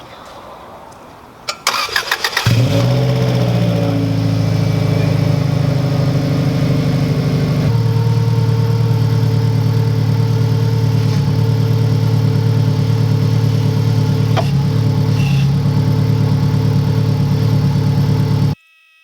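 A 1992 Subaru WRX engine cranks briefly, catches and settles into a steady, loud idle that runs close by for about fifteen seconds before cutting off abruptly.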